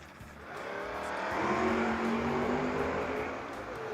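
Vega station wagon and Oldsmobile drag racing, engines roaring as they accelerate down the strip, the sound swelling to a peak and then fading slightly, heard at some distance.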